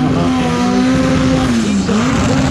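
A Nissan 350Z and a Mercedes launching side by side at a drag strip, loud sustained engine roar rising in pitch with a brief dip as the gear changes, close and continuous.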